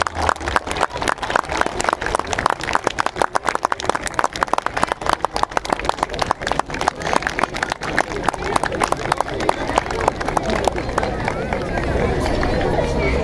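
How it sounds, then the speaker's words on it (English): Applause from a crowd on a school playground at a children's day celebration, rapid dense clapping that carries on loudly for several seconds before thinning out, with crowd chatter mixed in. "let's fill this MS playground with applause as we celebrate our young achievers"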